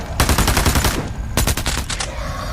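Close, loud automatic gunfire in the video game Into the Radius 2, with long rapid bursts of shots, a short pause, then more sustained firing.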